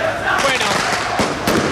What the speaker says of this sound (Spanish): los fuegos artificiales que empezaron a tirar